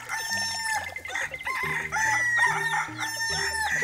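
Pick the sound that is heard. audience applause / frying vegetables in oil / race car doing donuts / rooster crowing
rooster crowing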